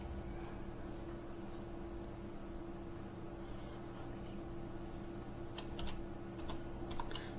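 Typing on a computer keyboard while filling in an online application form: quiet, steady hum at first, then a brief, faint patter of key clicks near the end.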